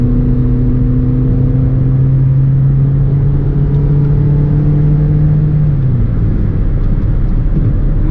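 A Toyota Yaris ATIV X 1.5 CVT drives along, its steady engine drone and tire rumble holding an even tone before a smooth, jerk-free gear change drops the pitch near the end.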